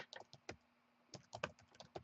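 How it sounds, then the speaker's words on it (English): Quiet typing on a computer keyboard while text is entered in a website builder, with irregular soft clicking keystrokes in short bursts and a brief pause midway. "you can change the text here by typing"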